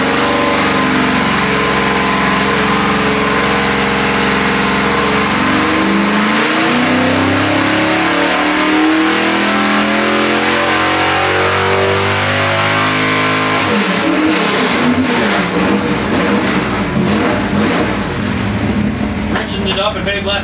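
A 406 cubic inch Chevy small block V8 with an APM 1050 carburetor revs hard on a dyno, its loud engine note sweeping upward continuously and then rising again in a second pull, with voices talking faintly underneath.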